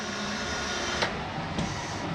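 A steady broadband whir of a small exhaust fan in a Jayco North Point RV bathroom runs throughout at an even level, with a couple of faint clicks partway through.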